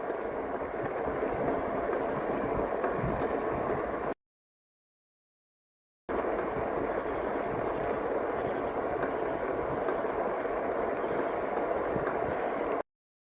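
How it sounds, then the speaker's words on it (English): Steady broadband rumble of trains in a railway yard in East Point, Georgia, heard from close beside the tracks, continuous for about four seconds, a two-second gap, then resuming for roughly seven seconds, with no talk. "This is the train yard."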